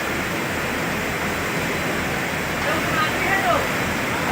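Floodwater rushes through New Haflong railway station in Assam, a loud, steady roar of churning water that swells slightly toward the end.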